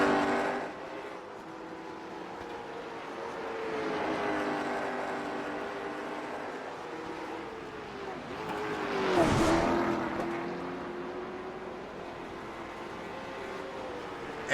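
Late model stock cars racing at Lime Rock, engines droning steadily with rising and falling pitch, one car swelling loud as it sweeps close past midway before the field fades back to a sustained roar.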